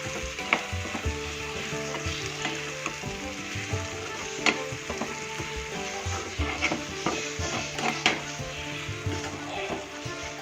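Instant pickle of Bangalore mango stirred in a hot pan, with a steady sizzle and repeated scraping and clinking of the spoon against metal, close and fairly loud, with no talk.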